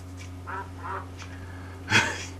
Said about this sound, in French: Tais-toi, le canard.